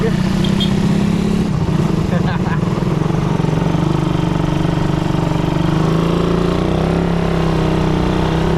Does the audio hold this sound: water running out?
no